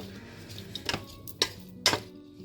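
A spoon stirs potatoes and onions in a pot for a lemon and potato soup, giving three or four distinct close metallic scrapes and clinks against the pot over a quiet background, with no talking.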